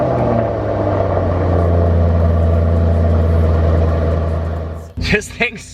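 A Mercedes-AMG E63 S engine runs with a deep, loud, steady rumble for several seconds, then cuts off abruptly as a voice starts speaking.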